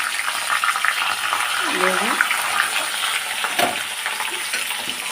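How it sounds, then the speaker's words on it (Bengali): Catla fish pieces frying in oil in a home kitchen, a dense continuous sizzle with a few clinks and a brief voice over it, heard up close. "এদিকে মাছ ভাজা হচ্ছে"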